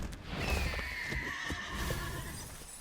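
A horse whinnies in a long, shrill, wavering call over dense game noise and low rumbling, with faint hoof clatter underneath, in Magic: The Gathering Arena.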